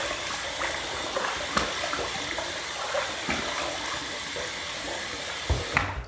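Steady running water from a bathroom tap, used to wet the face before shaving with Gillette Slim and Fatboy safety razors, flows continuously and fairly close, with a few small knocks and splashes and no talking.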